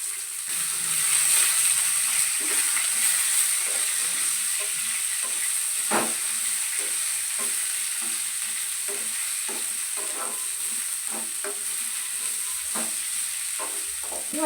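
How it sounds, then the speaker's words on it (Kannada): Onions, garlic, ginger and whole spices sizzle steadily in a hot pan, a continuous close frying hiss broken by occasional stirring scrapes and clinks. "ಸ್ವಲ್ಪ ಕೆಂಪುಗಾಗೋವರೆಗೂ ಹುರ್ಕೊತೀನಿ"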